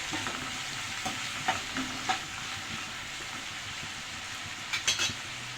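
Amaranth leaf (thotakura) tempering being stirred and fried in a pan with turmeric and salt: a steady sizzle with a few soft scraping strokes and a brief cluster of clinks near the end, close and fairly quiet.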